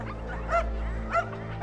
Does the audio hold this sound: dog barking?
yes